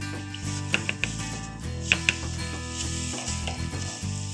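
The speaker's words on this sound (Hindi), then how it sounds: "मैंने घी थोड़ा कम ही डाला है और इसको मैं हल्का फ्लेम कर दूंगी और ये सूजी मैं इसमें भून लूंगी।" Semolina roasting in a small amount of ghee in a pan over a low flame gives a steady close sizzle, with a few sharp scrapes and clicks as a spoon stirs it.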